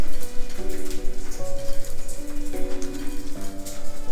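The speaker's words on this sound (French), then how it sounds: "Ça pleut complètement à l'intérieur du manoir." Steady patter of rain dripping and splashing on hard surfaces inside a ruined, decaying manor, with sustained tonal notes layered over the continuous drops.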